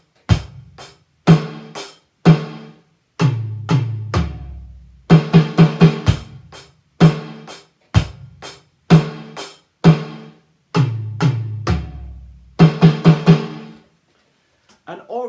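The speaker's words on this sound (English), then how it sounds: "So that, with a rock beat before it, sounds like this." A drum kit plays a simple rock beat of kick, snare and hi-hat hits, then finishes with a quick tom fill, loud and close with no talking.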